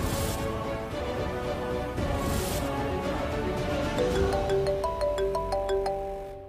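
A phone ringtone plays, starting with busy layered tones and shifting into a bright repeating melodic pattern of beeps, moderately loud, no talking.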